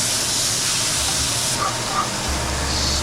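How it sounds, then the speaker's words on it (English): Skirt steak just flipped in a hot pan for a breakfast fry-up gives a loud, steady sizzling hiss that runs unbroken from start to finish, close up with no voices. "Gonna flip the steak."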